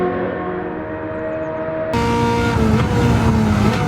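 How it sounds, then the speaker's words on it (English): A V8 with a racing exhaust in a Chevrolet Camaro ZL1 Garage 56 NASCAR stock car at Le Mans, in a racing video game, drones steadily at close range, then grows louder and rougher partway through. "The racing exhaust in this car really makes the V8 come to life."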